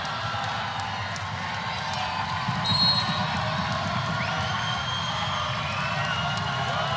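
Crowd noise in an indoor arena at a college volleyball match between Georgia Tech and Louisville, a sustained roar with whoops, whistles and sneaker squeaks rising slightly midway, with a commentator's voice faintly underneath.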